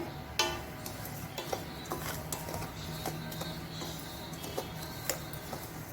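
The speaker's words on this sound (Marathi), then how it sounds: "तेल घातल्यानंतर सुद्धा छान परतून घ्यायचं आहे" Rava (semolina) roasting in a spoonful of oil in a pan for upma, with a spoon scraping and tapping the pan in an irregular run of sharp clicks over a faint, steady background hiss.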